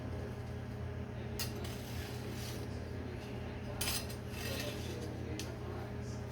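A spatula loosening food seasoned with Penzeys Maharaja spice inside an air fryer basket, with a few quiet metallic clinks and scrapes over a constant low fan hum.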